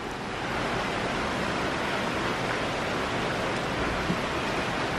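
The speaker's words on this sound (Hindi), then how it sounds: "ये हो रही है बारिश." Steady morning rain falls outdoors in a dense, even hiss that stays loud and unbroken throughout, with no voices.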